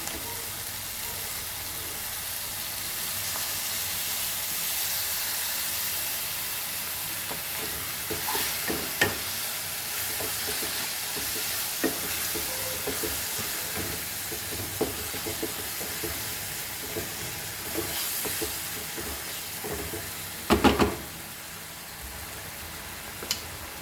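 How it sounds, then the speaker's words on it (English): Soaked dal sizzles and fries in a hot pan for a cauliflower leaf bhaji, with steady hiss and scattered scrapes of stirring, one sharper clatter near the end, no talking. "Now we'll add our dal to this. Okay, the soaked dal."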